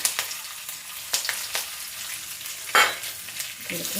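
Mustard seeds splutter in hot oil as washed rice is added to fry for a Kerala jackfruit thoran, giving a steady close sizzle with sharp crackling pops and scattered stirring sounds.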